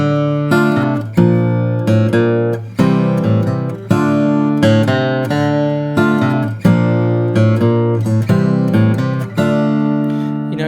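Fingerstyle acoustic guitar plays an unplugged solo without the percussive backbeat, a steady flow of plucked melodic phrases with regular accented onsets, close, clear and unaccompanied by speech.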